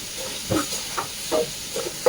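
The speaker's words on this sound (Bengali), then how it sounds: "এই যে এদিকে ঝিঙে আলুটা ভাজা হচ্ছে" Ridge gourd and potatoes frying, a continuous soft hiss of cooking with a few short bursts and crackles over it, close and moderately quiet.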